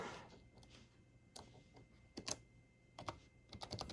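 Keys clicking softly as someone types one-handed on an Apple Newton eMate 300, heard as faint, irregular taps close by in a quiet room.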